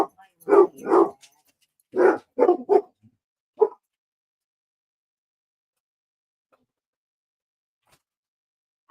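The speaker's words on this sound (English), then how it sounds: "my two basset hounds had to go outside." Basset hounds barking indoors, several deep close barks in quick bursts over about four seconds, followed by near silence.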